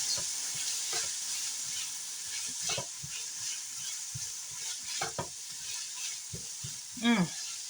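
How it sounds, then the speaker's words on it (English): Tomatoes sizzling in a pan on a stovetop burner while being stirred: steady close frying hiss with scraping spoon strokes, and a brief voice near the end. "So I'm going to add the tomato. And I'm just going to mix that up."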